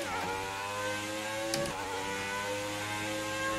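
A Formula 1 car engine in F1 2019 at Spa, a steady, fairly quiet high-pitched whine with stacked harmonics that rises and shifts pitch around a quick gear change.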